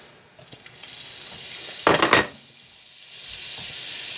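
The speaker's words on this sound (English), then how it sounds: "We're going to add a little bit of oil and some butter." Oil and butter sizzle steadily in a hot pan while cooking chicken cacciatore, a bright hiss running throughout with a louder crackling burst midway as more fat hits the pan, then settling back to an even fry, no talking.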